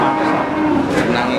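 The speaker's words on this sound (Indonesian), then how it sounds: "Ini dari pasar sapi Imogiri" Cattle at the Imogiri cattle market in Bantul give a loud, close, drawn-out moo amid general market noise.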